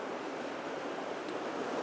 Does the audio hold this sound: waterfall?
yes